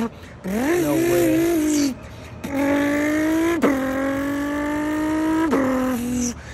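A man uses only his voice to mimic a supercar engine revving, with rising and falling whines in several long sustained bursts and sharp pitch sweeps, loud and close.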